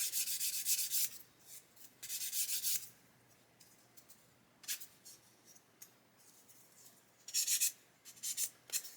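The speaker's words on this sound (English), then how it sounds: "Just sanding that away." Quiet scratchy rubbing of sandpaper on a plastic 1/72 Airfix Lancaster model part, smoothing a mould seam, in several short bursts with pauses between, close up and soft, no voices.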